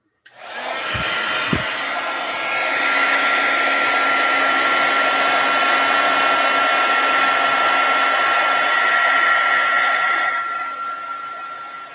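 An embossing heat tool blows steadily for about ten seconds while stamped cards are heat embossed with glitter, a loud continuous hiss with a faint hum, starting abruptly and easing off at the end.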